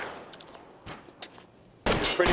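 Gunshots in LA Noire, first a few faint scattered metallic cracks, then a loud dense burst of gunfire at the end of the clip.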